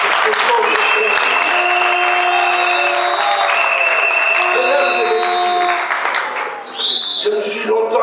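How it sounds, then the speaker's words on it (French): An audience bursts into sustained applause and cheering at a public address, dense loud clapping with shouts and whoops rising over it, and a voice speaking over the crowd. "je vais vous demander pour la seconde fois de les acclamer"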